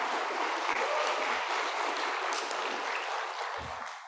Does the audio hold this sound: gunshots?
no